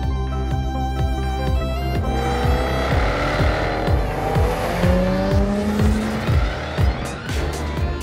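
A Jaguar F-Type two-seater sports car drives hard on a northern Spain test route, its engine note climbing through the gears with loud, close tire squeal rising over the growl.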